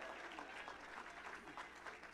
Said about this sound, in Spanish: Si le va a dar el aplauso, déselo fuerte y déselo con toda su alma